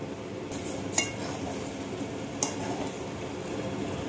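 A thick tomato masala, with chili powder being added, simmers and sizzles softly in a pan while a utensil scrapes and stirs, with two brief metallic clinks.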